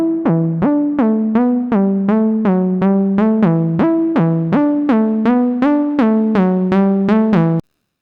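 A bright synth pluck plays a bouncy repeating melody of short, evenly spaced notes, clean and alone, then cuts off abruptly.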